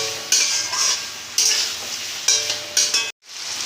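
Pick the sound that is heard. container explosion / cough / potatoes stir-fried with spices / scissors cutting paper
potatoes stir-fried with spices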